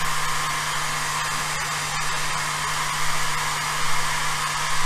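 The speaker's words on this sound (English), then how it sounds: "All you can hear is the fan from there." Cooling fan of a Genmitsu Jinsoku LC40 10-watt laser engraver, giving a steady, quiet whirring hum with a faint tonal drone, continuous and unchanging with no voices.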